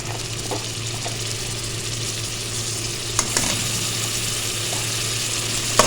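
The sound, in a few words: ginger garlic frying with softened onions in pan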